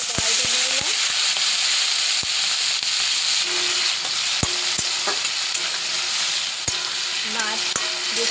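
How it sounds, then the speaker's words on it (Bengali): Shrimp fry in mustard oil in a wok with a steady, bright sizzle and hiss, broken by sharp clinks and taps as the pieces are stirred. "এবার মাছগুলো কড়াইতে দিয়ে দিলাম।"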